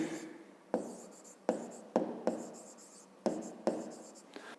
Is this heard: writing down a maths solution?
yes